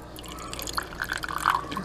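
Vinegar poured into a pot of chicken pho, a short run of liquid drips and small splashes, fairly faint and close, with no voices.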